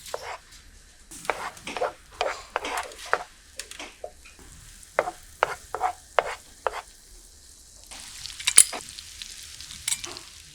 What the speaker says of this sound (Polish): Smaż czosnek w roztopionym maśle.